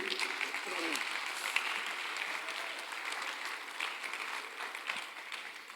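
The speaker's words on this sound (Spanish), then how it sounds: "dele fuerte el aplauso a Dios" Church congregation applauding for God during a sermon, a steady wash of many hands clapping at moderate distance, with a voice briefly audible near the start.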